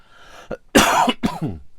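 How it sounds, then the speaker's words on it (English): Several close, harsh coughs in quick succession, with a brief pause between bursts; no talking. "I'm going to cough all the way through this video"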